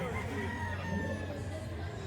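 A rooster crows at a poultry hobby expo, a drawn-out call rising over a busy, noisy hall din with a low steady hum and faint crowd murmur throughout.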